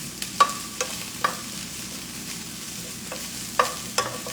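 Broccoli fries in a hot pan with a steady, close sizzle, broken by a few sharp scrapes and taps of a utensil.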